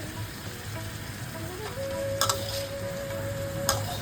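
A large tomato drops into hot oil in a brass wok, and a steady, moderately close sizzle follows with a few light clinks of utensil against metal.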